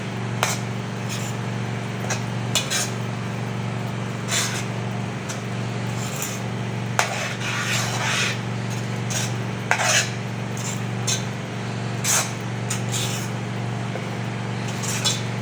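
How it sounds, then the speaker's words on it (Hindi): Chickpeas being roasted in a pot with a spoon, repeated scraping and clinking of metal against the pot at an uneven pace, over a steady low hum from the stove, close and clear. "इनको मैं अच्छे से भून लूँगी।"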